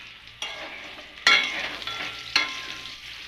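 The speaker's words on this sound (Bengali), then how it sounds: "এখানে যে ফুলকপি আলুর ঝোল করছি" Cauliflower and potato curry sizzles in a pan as a spoon stirs it, with three sharp scraping strokes over a constant soft frying hiss.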